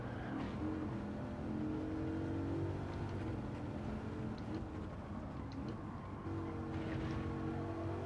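A racing car's engine in Gran Turismo 7 during a time-trial lap, pulling out of a corner in third gear, a steady droning motor note that rises and holds at moderate level throughout.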